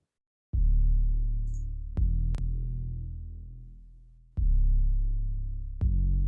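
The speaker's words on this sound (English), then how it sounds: "The 808 sounds like this. It's pretty basic." Deep Roland TR-808 drum machine bass notes boom and slowly decay, four hits in a sparse pattern with sharp clicky attacks, played alone.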